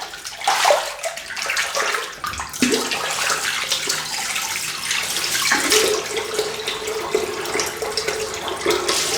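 Tap water runs steadily into a sink, rinsing shaving lather from a Yaqi Everest brush and a Carbon Cx titanium razor, with splashing and sloshing that shift in tone as the flow is interrupted and resumes.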